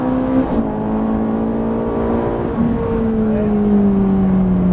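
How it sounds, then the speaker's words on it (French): A Ferrari 458 Italia on the Haute Saintonge race track, engine loud and close, revving hard through rising gears with brief dips at each shift, then holding a steady high drone. "Et gaz à fond, on débraque."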